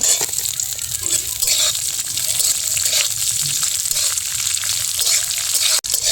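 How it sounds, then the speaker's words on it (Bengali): Raisins fry in oil in a pan while a sweet vermicelli dish is made, producing a continuous, bubbling close sizzle at a steady level, with a brief knock near the end. "কিশমিশটাও আমার ভাজা ভাজা হয়ে গেছে, রঙটা একটু আলাদা হয়ে গেছে"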